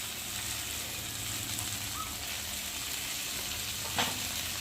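Greens and vegetables frying in a pan with ground cumin, ginger paste, salt and turmeric, a soft steady sizzle that runs on alone with one brief clink of stirring near the end.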